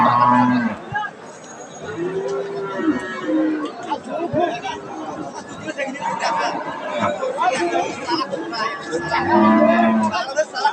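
A dairy cow at a cattle sale in Badarganj moos several times in long low calls, close and loud, while people chatter and talk around it.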